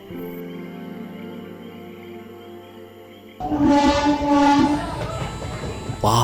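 A train running along its tracks: a steady low rumble with a sustained humming drone, then a louder passage of rising tonal blasts like a horn or whistle, heard close with no talk.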